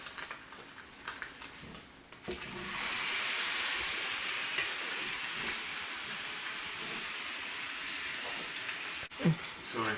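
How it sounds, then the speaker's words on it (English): A thick cowboy ribeye steak searing in a hot pan, a loud, steady sizzle that swells after a couple of seconds and holds, with a voice speaking briefly before it starts. "So I sear both sides."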